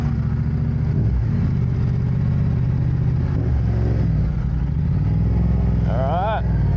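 A motorcycle being ridden in laps, its mid-pitched engine droning steadily and rising and falling with throttle, with a brief revving whine near the end and voices talking over it.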